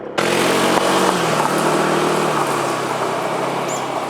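A Honda ADV160 scooter rides a gravel forest road, its rear tire kicking up stones. A steady, close engine drone runs over a dense, broadband crunch and rush of gravel.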